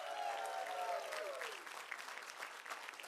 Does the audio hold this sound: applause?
yes